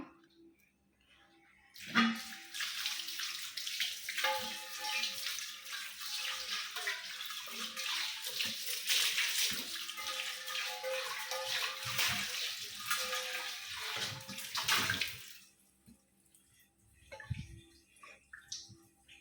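Running water rinses a copper vessel being washed by hand, a steady broad splashing stream lasting about thirteen seconds, then stopping, with a few faint clinks and handling sounds before and after.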